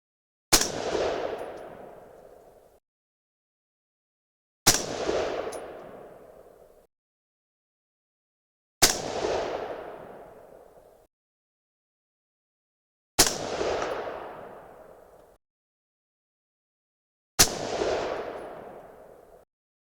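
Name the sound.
6.5 Creedmoor rifle shots, Berger 130gr bullets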